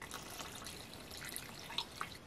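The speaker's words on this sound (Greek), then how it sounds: "Θα ρίξω μέσα 275 γραμμάρια νερό" Water pouring into a pot as the base for a mastic-flavoured samali syrup, a steady close trickle with a couple of brief splashy drips, no talking.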